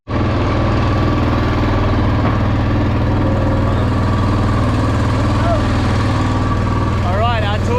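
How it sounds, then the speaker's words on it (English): A private river boat's engine idles on the Ganges at Varanasi, a steady close low drone with a throbbing rumble that runs unbroken under faint background activity. "So we're here in our private boat now."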